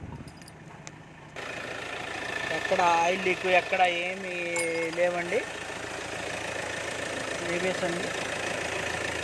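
A 2016 Hyundai Creta SX(O) engine idles with a steady, even hum throughout while someone talks over it nearby, and a brief tonal whine rises in the middle.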